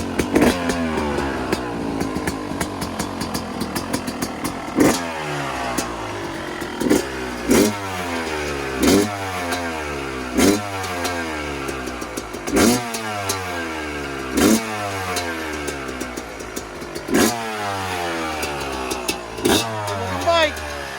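Two-stroke dirt bikes, a 2021 Yamaha YZ250 and a 1990 Suzuki RM125, revving hard after a kick start. The engines crackle continuously, with repeated sharp throttle blips at a steady rhythm, loud and close, while people talk faintly underneath.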